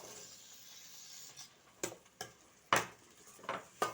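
A spoon scrapes and clinks against a pan while chickpeas are stirred into cooked masala on low heat, a few sharp knocks standing out over a quiet background.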